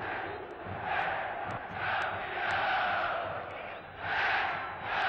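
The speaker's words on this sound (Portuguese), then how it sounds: "a torcida entusiasmada do Cruzeiro não seria diferente, grita, é campeão" Cruzeiro football fans in a packed stadium chanting and roaring, the crowd noise swelling and falling in repeated waves with broad, distant-sounding cheering throughout.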